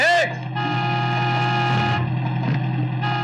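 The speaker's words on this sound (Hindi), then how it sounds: "अरे हॉर्न नहीं सुनाई देता क्या?" A long, loud car horn blast sounds close by, sustained for about two seconds, followed by a shorter honk amid traffic noise.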